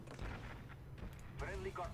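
RPG blast in Call of Duty Black Ops on PC, a heavy low rumble and boom of explosions and artillery-like fire rolling through the scene, with a voice talking faintly over it.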